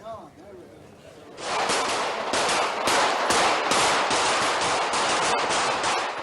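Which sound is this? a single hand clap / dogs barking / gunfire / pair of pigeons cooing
gunfire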